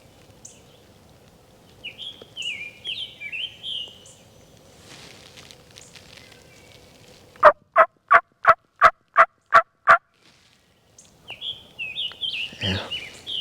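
A wild turkey gobbles in answer from down the mountainside during a spring hunt, a fast burst of loud rattling pulses amid surrounding birdsong, with other calls before and after.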